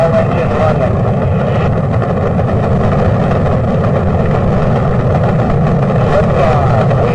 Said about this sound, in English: All engine running.